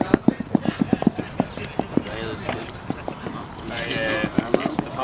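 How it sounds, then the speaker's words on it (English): A big horse's hooves clip-clop in a steady, fairly close walking rhythm, with people talking over and between the strikes. "That's a big horse."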